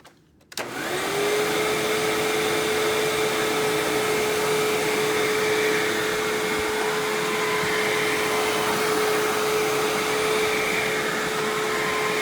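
A self-propelled Maytag upright vacuum cleaner starts up and runs steadily with a loud whooshing roar, a high, constant squeal from its transmission whining over it throughout.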